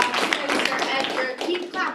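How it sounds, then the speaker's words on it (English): Dense clapping from a crowd of realtors at a team meeting, steady and sustained throughout with a broad rustling texture and some voices mixed in. "So give yourselves a round of applause."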